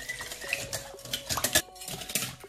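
Seasoning, salt and flour are stirred together in a bowl, giving close scraping and clinking of a utensil against the bowl in short uneven bursts, with no voices.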